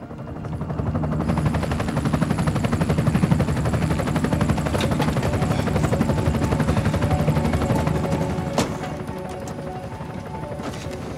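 A helicopter's steady, loud rotor and engine roar fills the scene from start to finish, with a dense low thrum and a sharp crack near the end before the noise eases slightly.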